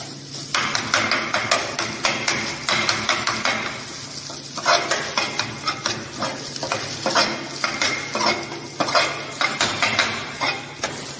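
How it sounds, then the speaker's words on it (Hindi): Boiled spinach stirred into a cooking mixture in a pan, with repeated rhythmic scraping and clattering strokes of a utensil over a steady sizzle, close and fairly loud. "एंड लास्ट में हम इसमें बॉइल्ड स्पिनच ऐड करके अच्छे से मिक्स करेंगे।"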